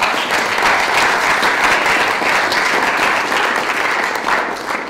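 A panel audience at a Q&A event breaks into steady, dense applause, loud and close, many hands clapping continuously for about five seconds with no speech over it.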